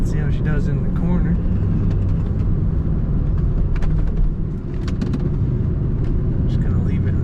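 A 2001 Ford Mustang SVT Cobra convertible holds a steady, loud low engine rumble with road and wind noise as it drives through a corner in third gear, continuous throughout with a brief dip midway.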